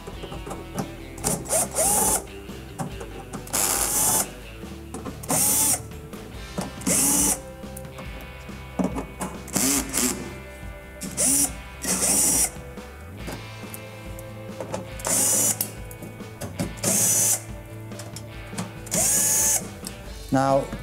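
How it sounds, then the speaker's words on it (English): Screws come out of the back panel of a Whirlpool refrigerator with a power driver in repeated short whirring bursts, separated by ratcheting clicks and handling noises, close up. "we're gonna remove all the screws"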